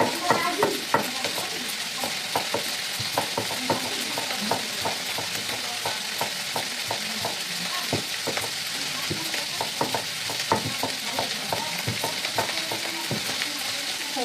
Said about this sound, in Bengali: দেখো এদিকে সবজি ভাজা বসিয়ে দিয়েছি